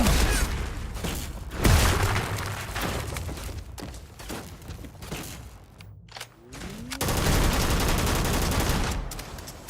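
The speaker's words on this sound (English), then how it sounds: "Gun still kicks ass. That's the Peacekeeper." The Peacekeeper gun fires in a Black Ops 7 video game, dense rapid bursts of gunfire with mechanical clatter and a brief lull before another loud sustained volley.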